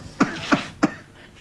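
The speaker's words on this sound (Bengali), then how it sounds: "দাদাজান, একটু আস্তে কাশতে পারবে?" An elderly man coughs three times in quick succession, each cough a short, fairly loud burst with a moment of quiet between them, and no talking.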